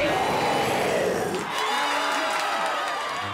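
Cartoon dog show audience cheering and applauding, a dense burst of crowd whoops and claps that is loud at first and thins slightly after a second and a half, heard alone.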